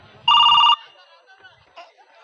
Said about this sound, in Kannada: ನಮಗೆ ಫೋನ್ ಬತ್ ಫೋನ್ ಬತ್